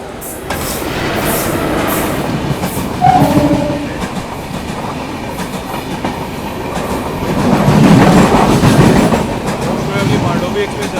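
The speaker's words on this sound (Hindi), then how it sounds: "कल्याण शेड का है WCAM 3, काफ़ी अच्छी रफ्तार में आ रहा" A Kalyan-shed WCAM 3 electric locomotive hauls the Mandovi Express past at good speed, a loud, sustained rush and rail clatter that swells around the middle and end, with a voice talking over it.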